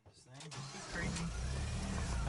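A freshly rebuilt Jeep Wrangler TJ engine cranks and catches about a second in, then settles into a steady, close idle while voices talk faintly in the background.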